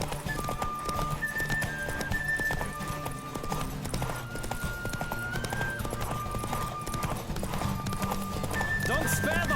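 Rhythmic hoofbeats of a galloping horse in the video game The Witcher 3: Wild Hunt, steady and fairly loud, with a brief whinny and a thin musical tone running over the top.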